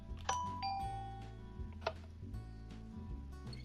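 Minecraft note blocks placed on gold blocks ring out bright bell-like chimes, two clear doorbell dings with ringing tails over a low steady game background hum.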